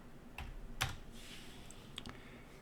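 A computer keyboard is tapped lightly, with a few soft, separate keystrokes as 1 is typed and Enter is pressed, quiet and close in a still room.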